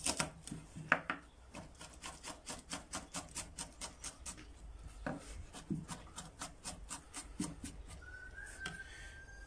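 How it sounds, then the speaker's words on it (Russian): A knife chops garlic on a board while fish is prepared outdoors for fire cooking in a village. Quick, close, even strokes repeat several times a second for the whole stretch, with no talk. "Затем нарезаем чеснок."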